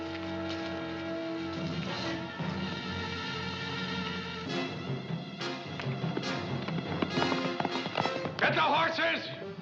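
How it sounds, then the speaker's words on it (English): Horses galloping at night in a Western standoff scene, rapid hoofbeats rising under dramatic music and voices, growing louder and busier toward the end. "Get the horses!"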